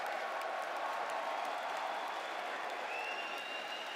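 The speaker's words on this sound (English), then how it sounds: "please, everyone just stand up. And give a round of applause for each other" A large arena audience at an IEM Melbourne 2025 Counter-Strike esports grand final applauds, a dense continuous roar of clapping and crowd noise heard at a distance.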